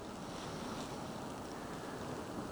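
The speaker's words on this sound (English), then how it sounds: "In the distance is the North Atlantic Ocean." North Atlantic Ocean waves washing against a rocky shore, heard as a continuous, even roar of distant surf with wind mixed in and no voices.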